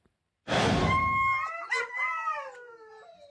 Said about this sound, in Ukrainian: Мисливські собаки виють уже третій день відтоді, як їхнього господаря не стало.